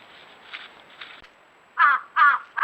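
A flock of crows gathered around a weak wild boar in winter caws loudly, with two strong harsh calls near the end after fainter calls earlier.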